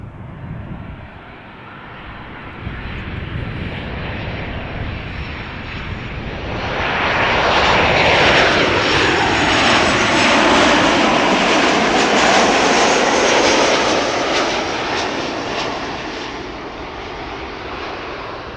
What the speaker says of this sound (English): KLM flight 1930, arriving from Geneva. That is a 737-800.